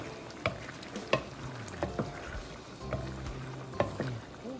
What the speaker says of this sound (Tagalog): Ilalagay na rin natin yung ating yung ating nilutong atay kanina, mga boss. Yan. Haluin lang natin.